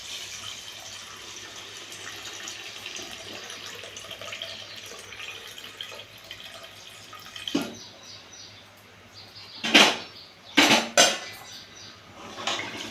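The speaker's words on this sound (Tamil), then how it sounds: "இந்த தண்ணி ஊற்றிக்கணும்." Water is poured into a cooking pot while making chicken biryani, a soft trickle building into several louder splashing gushes near the end, with metal pot clinks and no talking.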